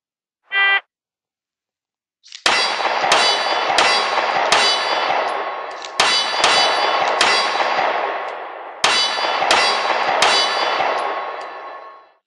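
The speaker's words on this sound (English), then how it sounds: "At least I hit my steel targets." A short beep sounds, then after a pause comes a rapid string of gunshots with loud metallic clangs as rounds strike steel targets. The strikes ring on and overlap, with a brief break midway.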